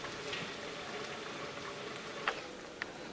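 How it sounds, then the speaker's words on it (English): Lentils and rice simmer in a pot, a soft, faint bubbling with scattered small pops and two brief brighter plops near the end. "our lentils and rice are cooking down quite nicely"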